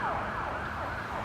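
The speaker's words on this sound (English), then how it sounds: "What are you going to do about this ambulance?" Ambulance siren wailing in a steady, loud rising-and-falling sweep as the emergency vehicle passes on a road.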